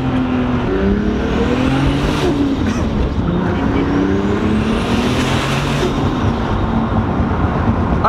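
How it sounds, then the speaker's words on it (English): Lamborghini Aventador revving hard with anti-lag, loud rising engine roars and sharp pops crackling through a continuous close exhaust blare. "I rev it, and then pretty much the turbo spoofs up"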